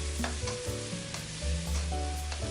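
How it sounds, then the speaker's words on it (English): Four angled beans frying with anchovies in a pan, a steady sizzle with a low hiss throughout and repeated scraping stir strokes at a loose, even rhythm, close and moderately loud with no talk. "Keep stirring the beans until they are crinkled on the sides."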